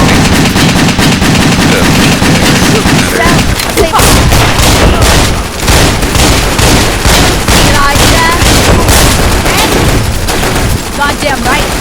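Rapid sustained minigun fire in the WET video game, loud and continuous with dense bursts and booms running throughout, layered with other game sounds.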